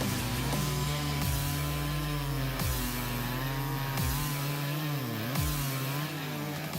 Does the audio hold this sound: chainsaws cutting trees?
yes